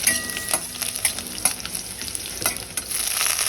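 Garlic stir-fried in a pan, with a bright steady sizzle broken by rhythmic spatula scrapes and clicks against the pan, close and clear with no talking.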